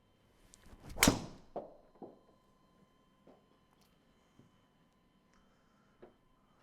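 A golf club strikes a ball off the tee on a course, giving one sharp crack near the start. Fainter knocks and thuds follow in a quiet outdoor setting.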